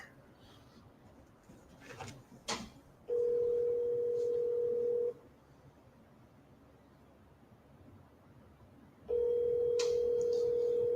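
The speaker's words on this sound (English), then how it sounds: "We're ringing. We're just ringing over here." A steady electronic ringback tone sounds for about two seconds, then silence, then rings again; quiet background noise and a few faint rustles fill the gaps.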